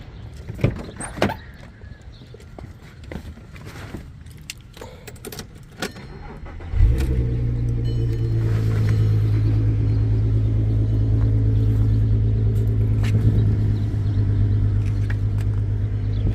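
After some clicks and rattling, an Audi TT 3.2-litre engine with a stock muffler cranks and starts with a sudden roar, then settles into a steady, low rumbling idle close by.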